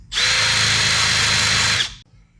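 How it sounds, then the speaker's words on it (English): A wire wheel on a power tool grinds a steel panel of a 1965 Mustang to expose spot welds, a loud, steady, high-pitched whir lasting about two seconds before cutting off abruptly. "First thing you're going to do is take like a wire wheel or a large 4-inch wheel and reveal the spot welds."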